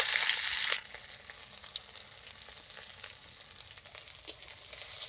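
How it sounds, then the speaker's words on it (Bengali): Chopped onion drops into hot oil after tempering, a loud sizzling burst at first that settles into a quieter crackle with intermittent spits and flare-ups. "আমি এবার পেঁয়াজ কুচি দিয়ে দিচ্ছি"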